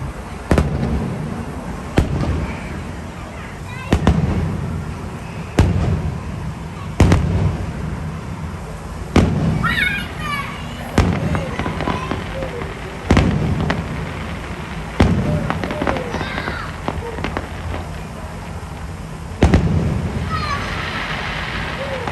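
Fireworks at Disneyland burst repeatedly at a distance, sharp booms every couple of seconds with crackling trails between them.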